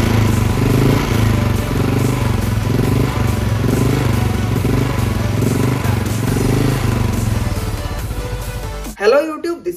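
A Royal Enfield Bullet 350 UCE single-cylinder motorcycle engine running steadily, loud and close, with a regular thumping pulse throughout that cuts off abruptly near the end.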